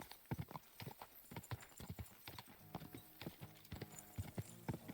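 Horse hooves clip-clop at a steady trotting rhythm in Kingdom Come Deliverance 2, close and fairly loud, with a brief whinny mixed in; the game's soundtrack sits faintly underneath.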